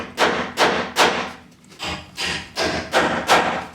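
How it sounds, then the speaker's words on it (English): Wall plugs are hammered into drilled holes in brick, about seven firm, close thuds in a fairly steady rhythm with a short pause midway. "Then I'm just gonna hammer these in."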